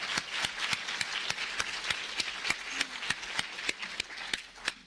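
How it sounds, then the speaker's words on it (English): A lectureship audience applauds with even, moderately loud clapping in a quick steady rhythm, with a single clap standing out clearly above the rest. "if we could give them a round of applause"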